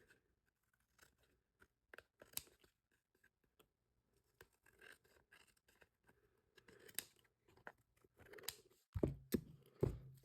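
Scissors cutting a paper strip at close range, quiet scattered snips and rustles that grow into a few louder, sharper cuts near the end.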